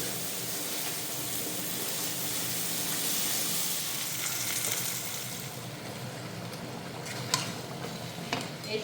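Fried potato and young jackfruit drop into a spice paste frying in oil, giving a steady, close sizzle with soft stirring scrapes and a few sharp clicks near the end.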